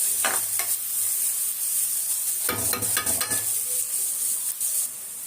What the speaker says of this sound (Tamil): பீன்ஸ் போடுற வதங்குது.